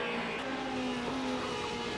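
Formula Renault race car engine in a racing video game, a steady high-revving drone held at near-constant pitch, loud and continuous with no talk.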